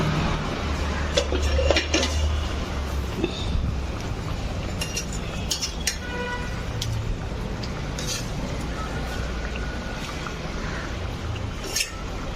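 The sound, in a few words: handling a heavy cooking pot while emptying fish curry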